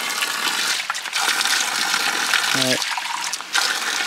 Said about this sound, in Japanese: 前回来た不動滝です。